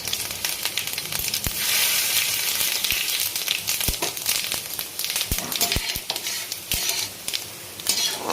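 Dry chillies, bay leaf, cinnamon and cardamom fry in hot oil, giving a continuous close sizzle with sharp crackles and pops scattered throughout and no talk.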